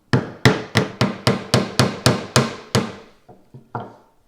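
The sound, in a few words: chisel chopping small mortises in wooden marking gauge beam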